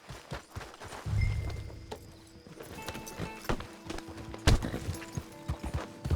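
Horses ridden in the Red Dead Redemption 2 Online video game clip-clop steadily along, hooves striking in a continuous uneven rhythm with a brief whinny and scattered game effects, no speech.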